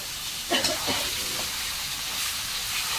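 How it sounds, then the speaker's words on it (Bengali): Chicken meat sautéing in a pan for chops, a soft continuous sizzle and hiss with a couple of brief stirring scrapes near the start, moderately quiet and close. "এখন চপের জন্য মাংসটা কষানো হচ্ছে।"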